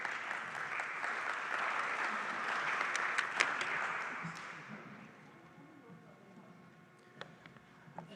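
An audience claps for a Columbus Public Health assistant commissioner at a small business meeting on flavored tobacco regulation. The applause is full and steady for about four seconds, then thins to a few scattered claps and fades into room quiet.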